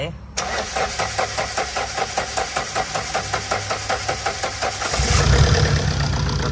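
A car engine with faulty fuel injectors cranks with a long, even run of rhythmic starter pulses, then catches and runs rough, loud and close throughout.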